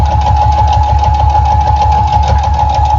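A sewing machine stitching a jelly roll mug rug with a quarter-inch seam, running at a steady, loud, close whir with a rapid regular needle rhythm and no pauses.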